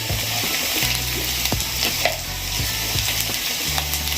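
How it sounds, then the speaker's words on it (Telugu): Onions and green chillies frying with ginger-garlic paste and a little salt in a pan, a steady close sizzle with occasional stirring clicks and scrapes throughout. "ఎర్రగడ్డలు పచ్చిమిరపకాయలు వేగుతున్నాయి."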